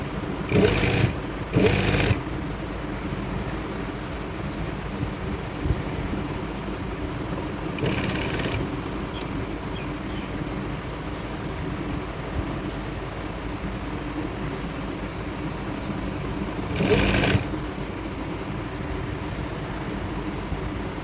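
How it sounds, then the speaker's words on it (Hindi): Sewing machine running steadily while elastic is stitched onto the waist of trousers, a continuous mechanical whir with brief louder bursts near the start and around eight and seventeen seconds. "अब इस निशान पर भी हम इसी तरह अंदर दबाते हुए इलास्टिक को सिलाई लगा लेंगे।"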